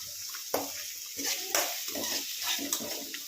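Ingredients frying in a pan while making momos: a soft hiss with a few sharp clinks of a utensil against the pan, close and fairly quiet, no talk.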